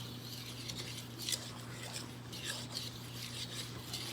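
A spoon stirs low-carb, sugar-free homemade zucchini bread batter in a bowl: soft, faint scraping and swishing strokes repeat unevenly over a steady low background hum.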